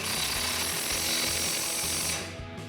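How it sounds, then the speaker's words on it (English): A 21mm impact wrench tightens a strut bolt on a RAM 1500 during a suspension lift install, a loud, steady rattling hammer that runs nearly three seconds before easing off at the end. "Now we can tighten this down with our 21mm impact and our 21 wrench."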